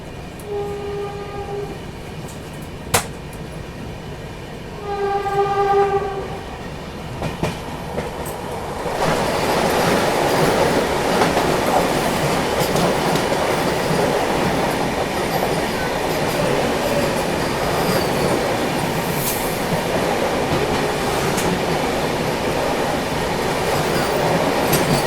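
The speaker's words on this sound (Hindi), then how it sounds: "सामने से ये आ रही है वाराणसी नई दिल्ली वंदे भारत एक्सप्रेस।" The Varanasi–New Delhi Vande Bharat Express approaching on the New Delhi–Kanpur main line, two bursts of its horn, then a loud, steady rushing roar of wheels and coaches passing close by for a long stretch.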